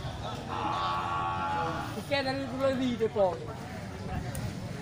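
A Simmental cow moos in a long, low drawn-out call, followed by another wavering moo, at an animal market with faint background noise and no clear talk.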